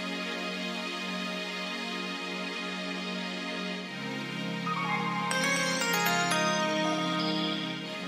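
An R&B beat: a sustained synth chord pad with piano, and a bright, tinkling melody of chimes and sparkly notes joining partway through, steady and fairly loud with no vocals.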